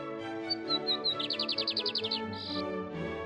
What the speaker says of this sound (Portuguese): caminhar ouvindo o canto das aves que habitam as margens